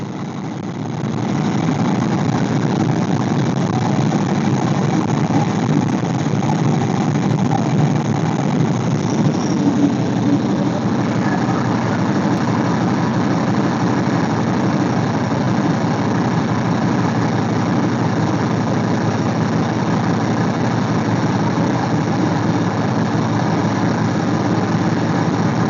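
Engine idling steadily on a China-copy Holley 2-barrel carburetor with the choke on, a constant close mechanical drone with slight vibration and no pauses.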